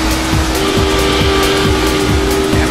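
A car engine revs hard and steadily in the Lego Drome Racers video game, loud and close, with a sustained rising tone and squealing tires throughout.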